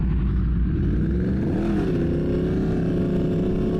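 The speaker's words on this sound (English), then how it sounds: "just getting up under high engine RPM" A car engine revs up under high RPM while driving, a loud steady engine drone whose pitch rises and holds, heard from inside the vehicle.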